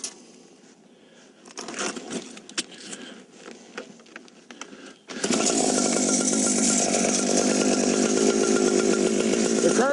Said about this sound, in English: Now I'd like to demonstrate how we're going to cut the curve cut and triangular inspection hole.